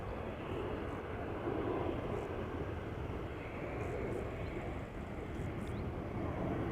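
A fixed-wing airliner climbing out after takeoff at Amsterdam Schiphol Airport gives a steady, distant engine roar with broad rumble, heard alone with no talk.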